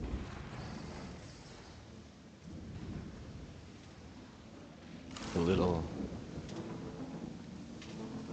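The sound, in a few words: rain and thunder in LEGO Fortnite Odyssey video game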